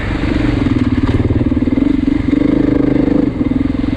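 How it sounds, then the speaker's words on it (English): A 2024 Beta 390 RR dirt bike engine under way, ridden in a high gear with frequent clutch use, a loud close steady thumping drone that swells and eases slightly. "I'm riding in gear high, but I'm using the clutch quite a bit on this bike."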